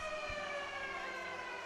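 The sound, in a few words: timeout siren at futsal match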